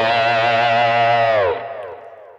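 Electric guitar lick, a sustained high note with a quieter ghost note tucked underneath; heavily effected with distortion and chorus-like shimmer, ringing loudly for about a second and a half before fading into a softer tail.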